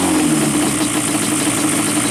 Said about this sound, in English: Let me rev it and clear it.